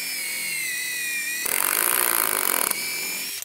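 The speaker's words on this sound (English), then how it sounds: "I'm gonna pre-drill." Drill pre-drilling into a wooden deck block, one loud, close burst of grinding, chattering drilling lasting about a second over a steady whining motor tone.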